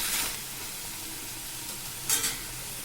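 Chow chow (chayote) sautéing in a pan with a little salt for kuzhambu, giving a soft, steady sizzle with faint stirring scrapes and a brief brighter burst near the end, no voices.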